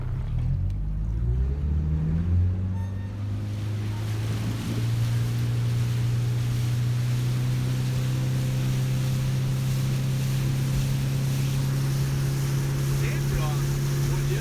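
A motorboat engine rises in pitch as it accelerates on open water, then settles into a steady, loud drone with water and wind noise around it.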